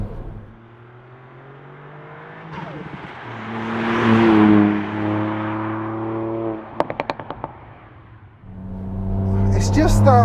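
Ford Fiesta ST hatchback with about 260 bhp accelerating hard on very bumpy roads, engine note climbing in pitch through revs, a brief gear-change break, then pulling strongly again with rattles from the rough surface.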